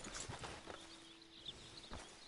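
Horse hooves clip-clop at a walking pace in Red Dead Redemption 2, a steady soft patter of game footsteps with a faint tonal hum running through the middle.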